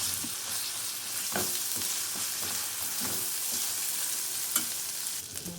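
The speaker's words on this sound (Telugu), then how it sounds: "కొంచెం గోల్డెన్ బ్రౌన్ కలర్ వచ్చే వరకు ఈ అల్లం వెల్లుల్లి పేస్ట్ అండ్ వెల్లుల్లి అండ్ పచ్చిమిరపకాయలని వేయించుకోవాలి" Ginger garlic paste, chopped garlic and green chillies fry in a pan with a continuous bright sizzle, broken by several spatula stirs and scrapes at uneven intervals; no one speaks.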